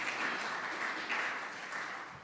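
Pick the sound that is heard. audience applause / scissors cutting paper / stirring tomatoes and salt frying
audience applause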